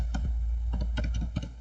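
Keys clatter on a computer keyboard while a command is entered, with about eight distinct close taps in an uneven rhythm over a steady low hum.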